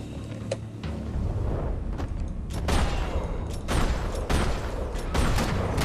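Gunfire in a video game, a series of sharp booming shots and bursts layered over a dense, rumbling action soundscape, loud and close.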